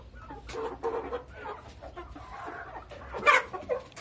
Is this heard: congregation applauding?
no